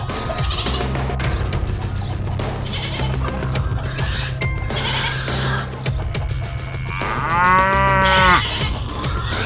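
Cattle moo with long, loud lows, and a sheep bleats toward the end, all over a constant low hum with no talk.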